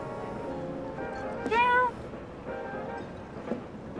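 A white cat in the video game Final Fantasy VII Remake gives one short, clear meow midway through, set against a low, steady hum of game ambience and music.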